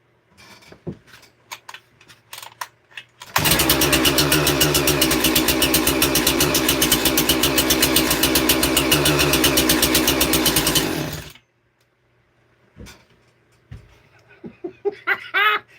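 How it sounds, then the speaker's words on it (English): A Husqvarna 385 chainsaw with a modified muffler starts up in a saw shack and idles with a loud, rapid, steady chatter for about eight seconds before cutting off, with scattered knocks and handling noises before and after. "Is it a Husqvarna 385?"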